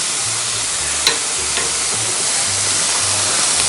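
Marinated cutlets sear in a cast iron Dutch oven outdoors, a loud, steady hiss and sizzle with a few sharp crackles and a low intermittent hum underneath.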